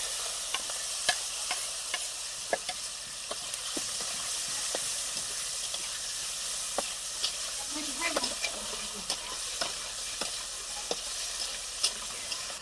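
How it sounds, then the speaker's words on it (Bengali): Prawns fry in mustard oil in a wok with a steady, fairly soft sizzle, punctuated by scattered sharp pops and spits throughout, and no voices. "কড়াইতে সরিষার তেল দিয়ে দিলাম এই তেলে চিংড়ি মাছগুলোকে ভেজে নেব"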